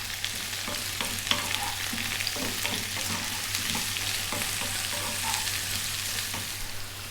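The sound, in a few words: fresh whole chilies frying in pumpkin curry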